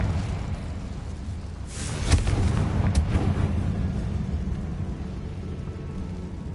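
Confringo fire-blast spell in a Harry Potter video game, a single booming explosion with a rumbling tail that fades over steady background ambience.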